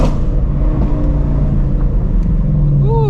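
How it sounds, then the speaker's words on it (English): A Shelby Mustang idles loud and close with a deep steady exhaust rumble, spitting a few small, quick backfire pops toward the end. "we got some baby backfires going on"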